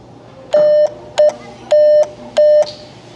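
Four loud, clear electronic tones keyed in short and long bursts, like Morse code beeps, with brief gaps between them.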